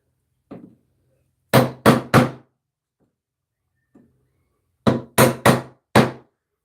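A walnut mallet strikes an IRWIN folding chisel into wood in two bursts of sharp, hollow knocks, three blows then four, loud and close with a faint tap before each group.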